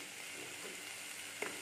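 Rice being added and stirred into frying vegetables in a pan, giving a steady low sizzle throughout with one brief scrape or clink near the end.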